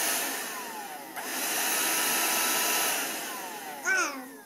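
A Shark vacuum cleaner runs with a steady whine that dips briefly and then resumes, followed by a short rising whir near the end, with no talking.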